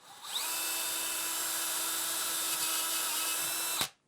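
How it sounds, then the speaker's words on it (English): Power drill bores through the metal of an electrical disconnect box, spinning up and holding a steady high-pitched whine for about three and a half seconds at close range, then stopping abruptly. "drill through those points."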